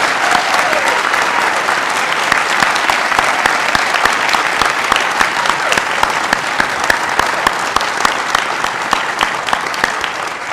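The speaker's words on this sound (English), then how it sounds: "I'm wondering if we could give these students and their families a round of applause" A large convocation audience at McDaniel College applauds students and their families, dense sustained clapping from many hands, loud and even throughout with no break.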